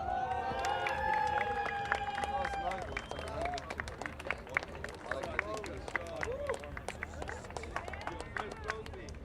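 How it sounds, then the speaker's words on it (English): Applause at a kart racing series prize ceremony for the under-10 mini category: scattered, moderately loud clapping and some crowd cheering outdoors, with a whistle-like tone early on and occasional voices in the background. "A round of applause for Amar Tabaza."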